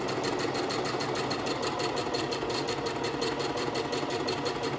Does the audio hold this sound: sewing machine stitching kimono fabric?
yes